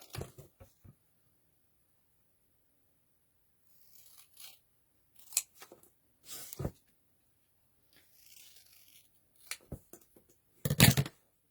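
Scissors cut apart paper flatware pieces in short, scattered snips and rustles, close and fairly quiet, with long silent gaps between bursts.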